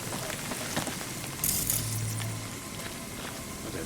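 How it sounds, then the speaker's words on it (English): Heavy rain pours down in the video game Cyberpunk 2077 as a soft, steady wash of patter with a brief brighter splash partway through, fairly quiet and with no voices. "There's a downpour out here."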